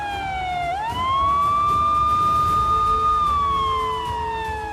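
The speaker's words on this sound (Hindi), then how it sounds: "बंगाल में ममता बनर्जी के करीबियों के घर के बाहर सीबीआई की गाड़ियों के सायरन बजने लगे हैं।" Vehicle sirens wail outside homes in Bengal, a single loud rising and falling electronic tone that sweeps up, holds steady, then slowly drops, with road rumble beneath.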